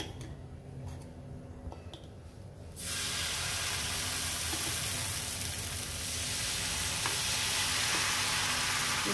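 Jaggery coconut appam batter poured onto a hot pan sets off a loud, steady sizzle and hiss that starts abruptly and continues unbroken, with faint kitchen clatter before it.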